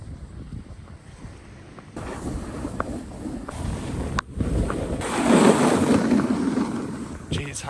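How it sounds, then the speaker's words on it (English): Cold wind buffets the microphone on a double chairlift at an Australian snow resort, a rushing roar that swells and fades in gusts, loudest near the end, while people talk over it. "The wind just cuts through."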